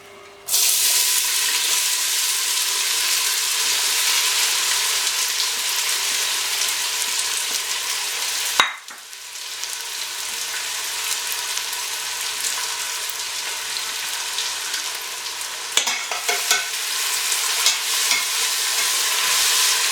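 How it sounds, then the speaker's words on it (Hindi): Onions drop into hot oil for a beef and bitter gourd keema, setting off a loud, steady, hissing sizzle that runs continuously up close, with a sudden stir or clatter partway through and a few more near the end. "लीजिए, हमारा ऑयल जो है गर्म हो गया है। अब हम इसमें जो है ना प्याज डालेंगे।"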